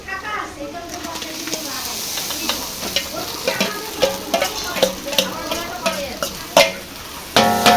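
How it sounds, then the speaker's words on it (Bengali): Ginger, garlic and chili paste sizzling with fried onions in a pan, a loud continuous frying hiss broken by stirring scrapes and clatter. "এখানে আমরা আদা রসুন আর লঙ্কার পেস্টটা দিয়ে দিচ্ছি"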